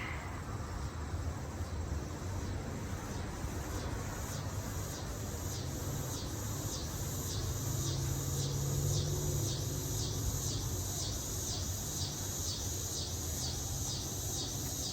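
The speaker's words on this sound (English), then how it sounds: "can you hear those cicadas?" Cicadas drone loudly outdoors in a pulsing, rhythmic buzz that repeats steadily for the whole stretch, alone with no talk.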